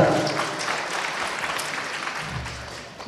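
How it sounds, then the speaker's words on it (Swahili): Audience clapping for award-winning hairdressers at a ceremony, a sustained round of applause that gradually thins out, with faint crowd murmur underneath. "Tuongeze makofi tafadhali"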